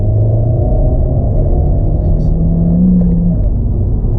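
A car accelerating to overtake, its engine rumbling low and steady up close, with the engine note rising slightly partway through; no talking.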